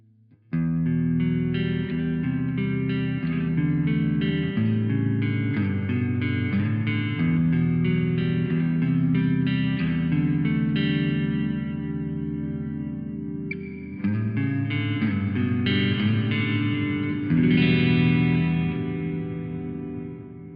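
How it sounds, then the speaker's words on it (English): Sustained electric guitar chords drenched in a huge, washy reverb, ringing continuously with long tails and a brief dip before swelling again. "This is a really nice reverb unit actually."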